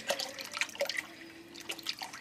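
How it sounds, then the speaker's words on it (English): Fat-free, low sodium stock is poured into a pot of split pea soup, giving soft, faint liquid splashes and drips near the microphone. "So I'm adding the stock, and it's fat-free, low sodium"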